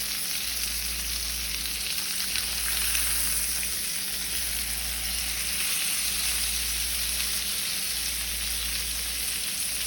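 Salmon fillet for a honey garlic glaze sizzles steadily in a frying pan after being flipped, a continuous close hiss of frying with no talk.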